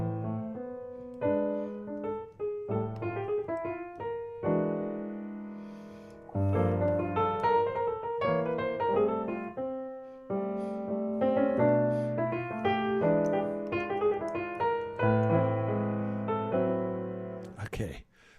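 Solo piano plays the opening line of a jazz tune, with phrased chords and melody in clear, close, moderately loud bursts and short gaps between phrases.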